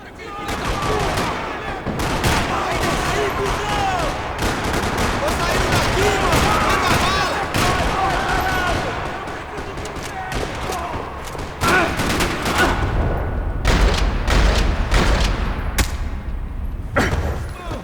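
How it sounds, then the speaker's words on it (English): Video game gunfire from Max Payne 3 in a parking lot: rapid bursts crackle and rattle almost continuously, with heavier thumps and booms mixed into the barrage. "Another parking lot rattling with gunfire."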